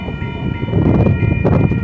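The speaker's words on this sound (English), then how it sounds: "you can hear the train tracks a little." A freight train rolls along railroad tracks, a steady rumbling clatter of wheels over rails with a faint metallic ring, heard from nearby without talk.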